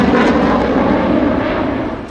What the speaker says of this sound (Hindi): जब जब हिंदुस्तान की धरती से लड़ाकू विमान राफेल उड़ता है